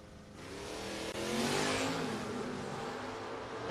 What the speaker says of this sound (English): James Peroni, 69 Nova from Shinley, New York. Parked on the Octane 94 side, looking over at Soggy Dunn out of Pottstown, Pennsylvania, the 68 Camaro.